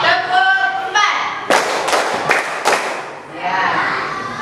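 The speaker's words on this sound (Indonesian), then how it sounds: "Tepuk empat." A group of schoolchildren in a classroom claps together on a teacher's count, four sharp, loud, evenly spaced claps in a row, with voices before and after them.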